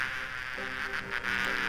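Bees buzz in the Discworld 2 video game, a steady close hum with faint tonal layers and no voices.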